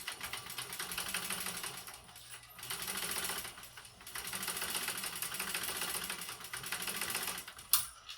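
Sewing machine stitching a fabric clutch: a nearly continuous, close, rapid whirring drone that dips briefly a couple of times between runs of stitching.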